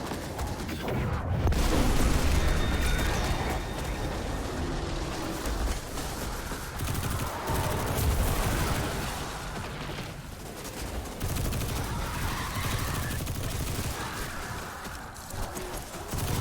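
Submachine gun fire during a raid in a video game, sustained rapid bursts that rattle on almost without pause, loud and close, with a few brief gaps between strings of shots.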